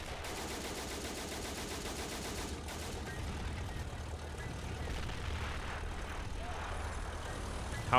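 Rumbling WW1 battle in the Men of War video game, with howitzer artillery and gunfire: dense, continuous rattling fire and distant booms over a steady low roar, with no speech.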